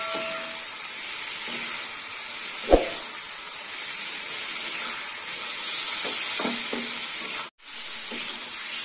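Potatoes frying with spices in a pan for Rohu fish kalia, a steady close sizzle with occasional stirring knocks and scrapes against the pan.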